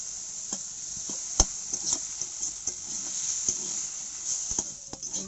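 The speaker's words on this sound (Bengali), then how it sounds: "আমরা আলু দিয়ে ভাজছি, এটা চাইলে আপনারা পেঁয়াজ দিয়েও ভাজতে পারেন।" Gima greens stir-frying with potatoes in a pan: faint, steady sizzle with sparse scraping and tapping of the stirring utensil, quiet and close, no voices.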